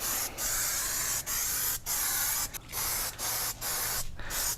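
Aerosol spray hissing onto a Toyota 4Runner engine in several steady bursts of about a second each, separated by short pauses, close and loud.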